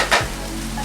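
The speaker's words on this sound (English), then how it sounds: "make sure you're stirring around, allowing each part to get all brown" Impossible Meat sizzling as it browns in a pan, with a brief scrape of stirring near the start and then a steady, close sizzle.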